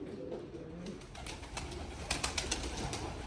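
Pigeons coo softly in a loft. Faint low cooing runs under a rustling background, and a few sharp flutters or taps are heard near the end.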